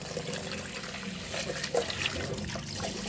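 Water poured over rice grains set aside to soak in a home kitchen, a soft steady trickle and splash running close and fairly quiet for a few seconds with no talk.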